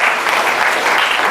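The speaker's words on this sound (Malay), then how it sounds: "Bagi tepukan" Audience applause at a community sharing session, a steady dense wash of clapping that stays loud and even for its brief length.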